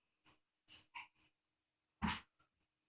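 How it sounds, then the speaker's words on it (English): A dog toy makes a few short squeaky, breathy bursts, clustered near the start and again after a pause, close and fairly quiet. "it's my dog toy."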